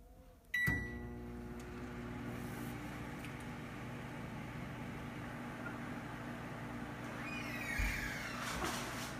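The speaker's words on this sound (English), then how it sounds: "you put it in the microwave for like 30 seconds here." A sharp click and clunk, then a microwave oven's steady low hum running continuously while heating a roll of masking tape, ending with a soft thud and rattle near the close.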